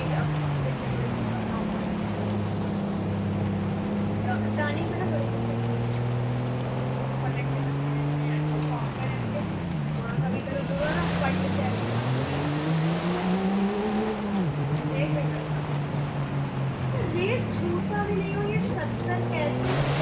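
Range Rover Defender driving off-road through a river crossing in Forza Horizon 5, engine drone rising and falling in pitch with repeated revs over a steady wash of splashing and rushing water, under background music.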